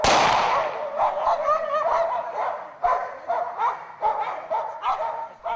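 Dogs bark at a working-dog competition held in a penal colony, a crowded mix of repeated yips and barks, fairly close and loud, over a busy outdoor background.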